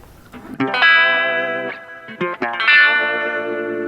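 Two bursts of electric guitar chords through an EHX Nano Q-Tron envelope filter pedal, a processed, filtered wah-like tone, each sustained and ringing out with some reverb, no voices.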